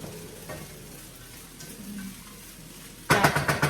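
Meat and vegetables fry in a pan with a soft low sizzle and faint stirring at first, then a sudden loud burst of hissing and crackling as more food hits the hot pan.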